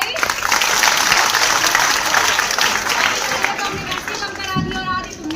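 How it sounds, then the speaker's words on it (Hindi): Students at a farewell party break into loud, dense applause that holds steady and then thins out near the end as a voice starts to speak over it. "जोरदार तालियां भाई।"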